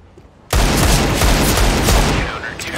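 Desert Eagle pistol shots in Counter-Strike: Global Offensive break out suddenly after a quiet moment, then a loud, dense stretch of overlapping gunfire that fades slightly at the end.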